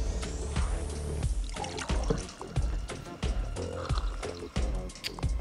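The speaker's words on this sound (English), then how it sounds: "We have some coffee that we can pour for them." Coffee pours in the Toca Boca Life World game as a trickling stream of liquid broken by drips and small clicking taps, close up and moderately loud over a few seconds.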